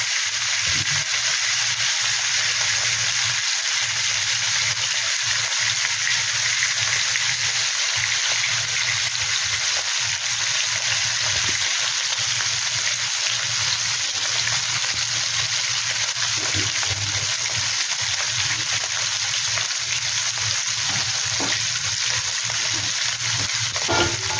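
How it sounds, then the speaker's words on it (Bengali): Pieces of katla fish fry in hot oil with a steady, loud, broadband sizzle and hiss that runs unbroken throughout, with occasional soft clicks and faint bubbling beneath. "এই পিসটা হয়ে গেলে উল্টো পিসটা ভাজার জন্য দিয়ে দেবো। এটা মিডিয়াম করে ভাজবো"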